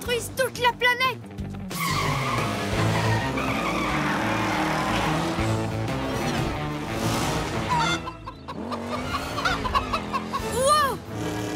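A runaway turbo tire skids and squeals in a children's space cartoon, racing engine whine and screeching tires over music, with cartoon voices and clucking sounds around it.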